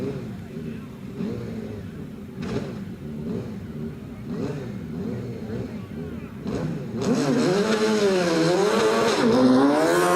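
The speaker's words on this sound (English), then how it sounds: "I can hear an engine revving at the start line" A race car engine revs at the start line of the Prescott Midland Championship Hillclimb, rising and falling in pitch and growing louder toward the end, under continuous commentary.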